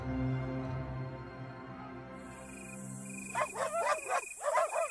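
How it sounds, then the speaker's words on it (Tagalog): Several dogs bark in quick bursts from a short distance, answering one another over a steady hum of insects in the background. "Saktong nagtahulan na naman ang mga aso"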